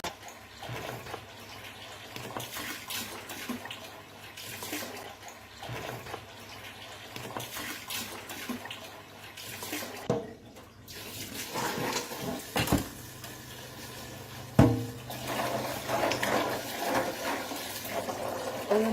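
Water is poured into a container while cooking, right after salt goes in; a steady running-water wash with a few clunks and knocks, close by and moderately loud.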